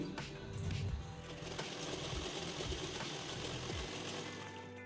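A sewing machine runs continuously while stitching a blouse, a close mechanical hum with fast rhythmic needle clatter at moderate volume.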